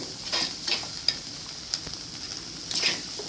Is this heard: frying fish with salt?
yes